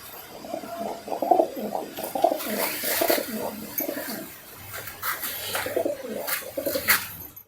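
A pair of pigeons in a loft in Cuttack coo softly and repeatedly at close range, with low bubbling calls over a faint background hiss and a few small clicks.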